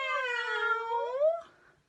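A domestic cat gives one long, clear meow that rises and then falls, close and loud, about a second and a half long, and ends in near silence.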